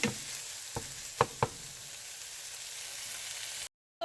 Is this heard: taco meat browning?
yes